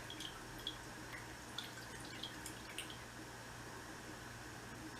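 Faint, sparse drops of water fall into an absinthe glass, a few soft drips spread over a quiet background hiss, with no speech.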